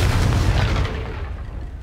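A Confringo spell explosion from the video game Hogwarts Legacy: a loud, low booming blast that rumbles and slowly fades over about two seconds, with no talk.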